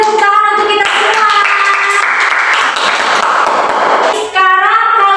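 A classroom of children claps together, a dense burst of hand clapping that starts just under a voice and continues alone. A voice then returns briefly as the clapping fades out.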